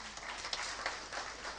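Applause at a school gala dinner for technical high school (lycée technique) students, a brief, fairly faint wash of clapping from the audience.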